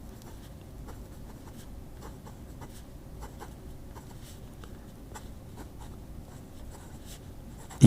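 A fine steel nib fountain pen from Leonardo writing on paper, giving soft, steady scratchy strokes in a continuous close-up rhythm with short repeated pen movements.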